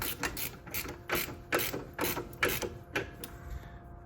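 A ratchet tightens the 21 mm bolt on the lower rear shock of a 2010 Chevy Cobalt, giving about a dozen quick, close metallic clicks in uneven bursts with no talking.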